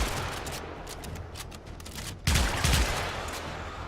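Sybaris rifle fire in the game Warframe comes as a rapid rattle of shots over dense in-game noise, with a heavier, louder pair of bursts partway through.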